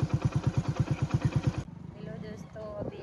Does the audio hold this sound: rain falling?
no